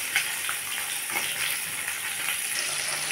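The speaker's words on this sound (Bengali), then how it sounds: "মাছটা একটু ভাজা হয়ে গেছে" Cut pieces of pona fish (rohu) frying in hot oil in a wok, giving a steady, dense sizzle with soft crackles and no talking.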